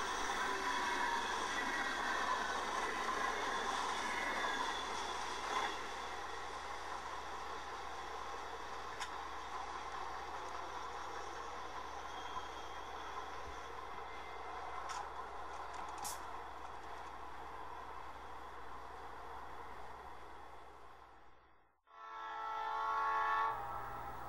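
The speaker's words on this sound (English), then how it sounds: "train 252, now up to speed, passes by a local town's water tower." D&H freight train 252, carrying lime, rumbling steadily past at close range, wheels and cars grinding continuously for a long stretch, then a brief lull before the noise returns.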